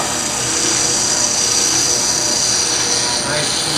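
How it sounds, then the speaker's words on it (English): Power sanding along the edge of a machined part, a steady loud high-pitched grinding whir that holds continuously without a break. "Sand that edge off."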